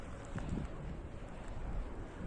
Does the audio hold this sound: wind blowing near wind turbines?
yes